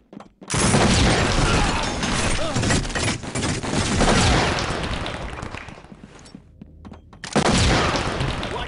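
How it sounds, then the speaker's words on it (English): Heavy gunfire in the tactical shooter SWAT 4 crackles loud and close: sustained volleys with mechanical clatter, a brief lull, then another loud burst. "we think they've started shooting each other"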